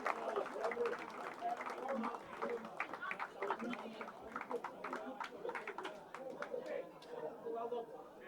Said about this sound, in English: Give a big round of applause for both these players.